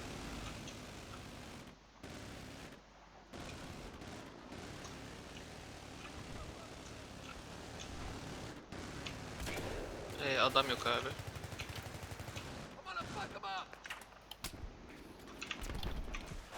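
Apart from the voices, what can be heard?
gunfire in the video game Battlefield 3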